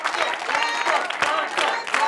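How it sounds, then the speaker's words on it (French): A crowd applauds the day's jackpot winner with close, lively clapping and cheering voices mixed in, loud and continuous with a few brief dips. "qu'on va applaudir s'il vous plaît"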